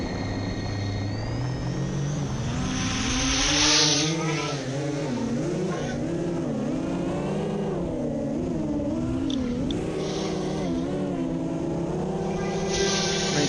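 FPV drone with high-KV Primo 2450 motors spinning 6-inch HQ bi-blade propellers on a 5S battery, a continuous buzzing whine that rises and falls in pitch with throttle changes, steady and fairly loud throughout.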